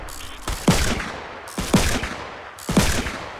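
Three loud gunshots fired at a tree in Fortnite, evenly spaced about a second apart, each a sharp crack with a short decaying tail, with no talking.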